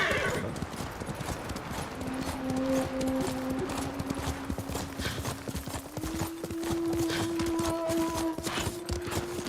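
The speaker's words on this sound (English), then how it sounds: "Just gonna call the horse and leave." A summoned horse in a samurai video game gallops with rapid, rhythmic clip-clop hoofbeats and a whinny, loud and steady throughout, backed by sustained musical tones.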